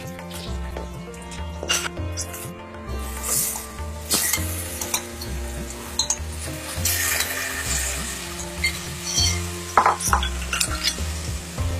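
Marinated mango pieces stirred in a hot pan, with steady close sizzling and frying broken by repeated scraping stir strokes and light clinks of a utensil against the pan, no talking.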